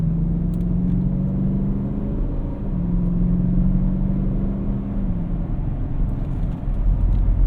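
A 2014 Porsche Cayenne GTS engine and exhaust while driving, with the exhaust baffles open: a steady, loud, low rumble with a droning tone that eases at the shifts, with no talking.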